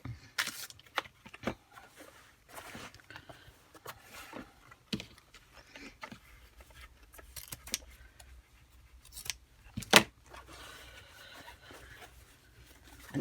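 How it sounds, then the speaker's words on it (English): Scissors snipping through ribbon in a quiet room, a series of soft, irregular close clicks and cuts, one louder snip near the end, with no talking. "Let's cut more ribbon."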